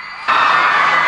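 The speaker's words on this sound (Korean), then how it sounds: "일본과 한국, 미국 인기 배우들이 등장할 때마다 팬들의 환호가 이어집니다" Fans packed in front of an outdoor festival stage at Haeundae burst into loud, high-pitched screaming cheers as film stars appear, the roar erupting suddenly and holding at full strength.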